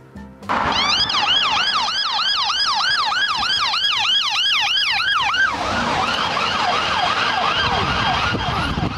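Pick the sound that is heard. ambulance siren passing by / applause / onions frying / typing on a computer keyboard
ambulance siren passing by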